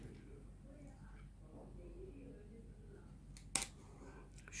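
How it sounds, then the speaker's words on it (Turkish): A pair of scissors snips through knitting yarn while a vest is being made, giving one short, crisp cut that stands out against a quiet, low background. "şu şekilde ipimi buradan kısa bir şekilde kesiyorum"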